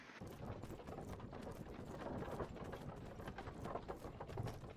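Horse hooves in the video game Myth of Empires clop in a quick, steady rhythm, soft and somewhat distant, with a faint background rumble.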